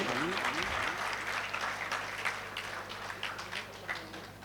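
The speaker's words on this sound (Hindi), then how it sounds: "कम से कम तालियां तो अच्छे से बजनी चाहिए।" A crowd at a religious procession welcoming a Jain acharya in Khatauli applauds steadily, with a voice briefly heard at the start and the clapping continuing at moderate level throughout.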